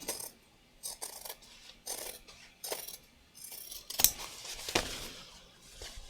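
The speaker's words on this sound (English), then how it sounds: "I'm just cutting it down just so you can see the edges of the stabilizer." Scissors trim embroidery stabilizer close up, with a series of short crisp snips and rustling cuts in an irregular rhythm, ending in a couple of sharper metallic clicks.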